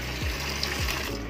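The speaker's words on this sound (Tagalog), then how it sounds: "Diligan ko muna ng tubig yung mga halaman." Water runs steadily from a hose or tap while plants are watered, a continuous splashing rush with a couple of low gurgling surges.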